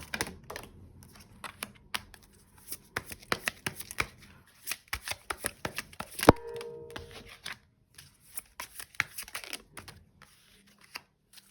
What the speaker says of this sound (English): Let me just grab one final card.